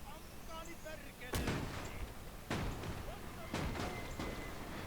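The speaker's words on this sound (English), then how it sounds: "Mortar teams into range" Mortar fire in the WWII strategy game Gates of Hell during a Finland campaign battle: three heavy booms about a second apart over a rumbling battlefield, with a voice faintly present.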